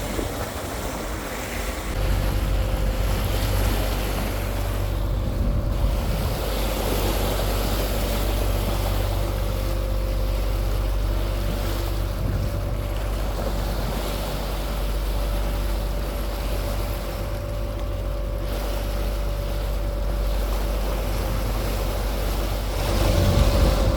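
Deep-sea fishing boat underway at sea, its engine a constant low drone and hum beneath rushing waves and wind, loud and unbroken throughout with no voices.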